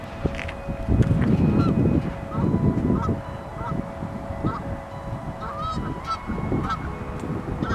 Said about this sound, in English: there's birds everywhere. Geese and shit.